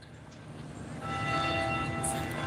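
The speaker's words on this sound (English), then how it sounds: "Here comes the bells. Can you guys hear the bells?" Church bells ringing in downtown Henderson, North Carolina, heard as sustained ringing tones building over steady outdoor street ambience, moderately distant, with no talking.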